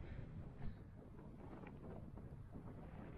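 Gusty wind buffets the microphone with a steady low roar on an open moorland walk on Dartmoor, constant throughout with one stronger gust early on.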